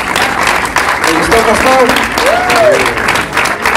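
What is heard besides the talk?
audience applause for the drama group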